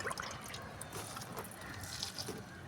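Banana flower NPK liquid fertilizer is poured onto a plant, a soft continuous trickle and splash of liquid, close and quiet.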